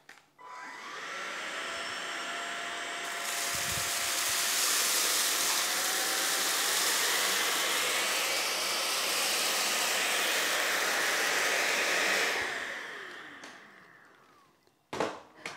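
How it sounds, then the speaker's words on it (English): Oraimo UltraCleaner S2 cordless stick vacuum cleaner running on auto suction, a steady loud whirring hiss that steps up in intensity partway through before winding down, with no talk over it. "I will be leaving it in auto. That way the vacuum cleaner will decide how much suction it needs"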